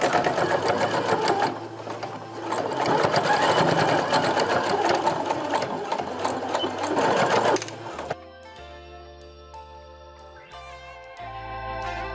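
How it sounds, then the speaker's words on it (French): A sewing machine runs in a fast, steady mechanical rattle, stitching the sides of a quilted toiletry bag about one centimetre from the edge, then stops abruptly before a few short, quieter stitching bursts follow. "Maintenant, on va coudre les deux côtés à 1 cm du bord."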